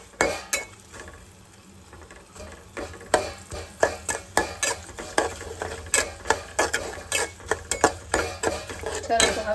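Semolina being stirred in a pan while it is roasted for a milk sheera offering: a spoon scrapes and clinks against the metal repeatedly in an irregular rhythm over a soft sizzle, close and fairly loud.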